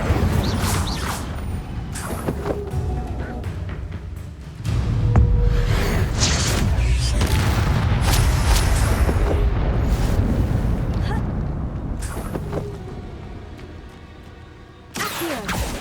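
The Incendio fire spell cast repeatedly in Hogwarts Legacy, loud roaring bursts and booming flame blasts in quick succession, mixed with shouted spell names and combat noise.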